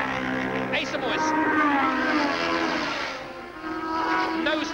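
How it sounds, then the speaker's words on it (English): Ducati sports motorcycles racing at Mallory Park in 1978, engines revving and rising in pitch as several bikes pass close together. The roar is steady and loud throughout, with a dip in the middle and a commentator speaking over it. "You see the riders just blip the throttle as they change down one, as they peel off into Gerrard's"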